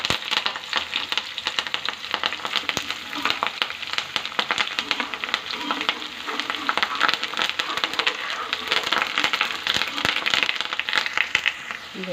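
Curry leaves and small shallots fry in hot oil in a pan, giving a steady, soft sizzling crackle that runs without a break.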